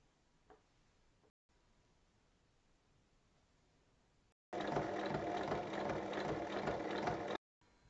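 A sewing machine stitches fabric strips together, its steady rapid mechanical whir running for about three seconds after a quiet stretch with faint small clicks.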